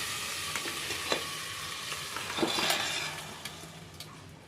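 Ragda, a mash of chickpeas and potatoes, hits hot oil in a pan and sizzles loudly and steadily, with a few clinks and a swell of frying as it is stirred, close up and without speech.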